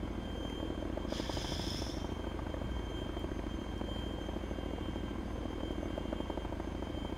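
A helicopter in the Arma 3 video game gives a steady, continuous rotor and engine drone, with a brief higher whine early on and no voices.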